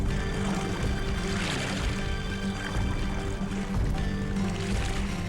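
Oars of a replica Greek trireme splash and churn through water in a dense, steady wash, with a low rumble under it and no voices.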